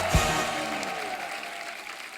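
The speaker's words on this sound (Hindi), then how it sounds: "जोरदार तालियां हो जाए मधुर सर के लिए" A studio audience on a comedy talk show claps to welcome guest Madhur Bhandarkar, a brief burst of dense applause that stays steady throughout.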